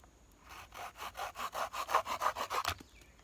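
A folding saw cuts through a thumb-sized piece of dried wax myrtle in about a dozen quick, rasping back-and-forth strokes, close and fairly quiet, building slightly before the wood gives and the sawing stops.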